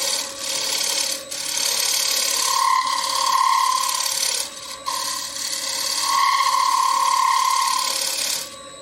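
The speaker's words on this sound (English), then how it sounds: "A little shear scrape just to break that edge" Tool scraping the edge of a dried green wooden bowl spinning on a lathe, a steady rasping hiss with two sustained shear-scrape passes, each roughly three seconds, close and loud, with no talk.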